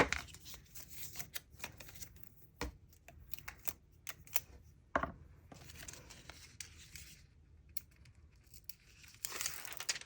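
Scissors cutting paper for a creative journal page, a quiet run of crisp snips and rustling crinkles, close and fairly faint, alone without talk.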